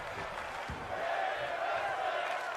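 A wrestling crowd reacts to in-ring action with a steady, moderately loud roar of cheering voices that swells slightly toward the end, while a commentator talks over it.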